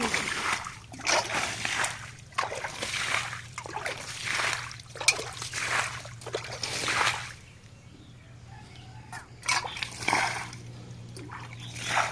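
Water splashes and sloshes in a well as it is cleaned, landing in a regular series of bursts roughly once a second, then a brief lull before a few more splashes return.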